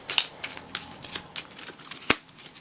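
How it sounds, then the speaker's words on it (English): A deck of playing cards for A Game of Thrones: The Card Game is shuffled by hand, giving a series of quick crisp riffles and snaps, close and fairly quiet, with one sharper burst near the end. "Shuffle your deck"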